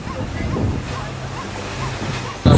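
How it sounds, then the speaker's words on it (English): Ocean surf and breeze at Brighton pier: a steady wash of waves and wind rumble fills the air, with faint voices in the background and a sudden louder gust or wave near the end. "enjoy the ocean breeze"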